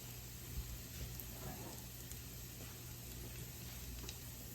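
Something fries quietly in a pan over a low flame, a faint steady sizzle with soft crackles throughout.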